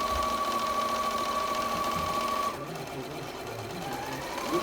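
A Bernette b38 sewing machine stitching at a steady, fast motor hum that softens partway through while the machine keeps running, heard close up.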